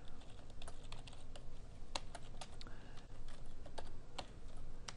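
Computer keyboard typing Java code: a close run of crisp, irregular key clicks in short bursts with brief pauses, quiet and free of talk.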